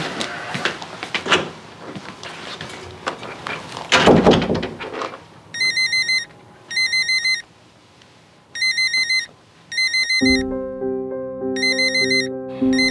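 A telephone rings in repeated electronic bursts with short pauses between them, following a few thuds and clatter, and a steady tonal music-like drone comes in near the end.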